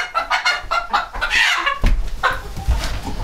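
A hen clucks repeatedly up close, short throaty notes in an uneven rhythm, with some handling noise.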